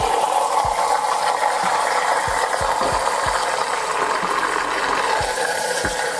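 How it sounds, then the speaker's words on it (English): A MiiXR electric vortex shaker runs with water inside, giving a steady loud motor whir with irregular low clicks and rattles throughout. "And I'm gonna turn it on."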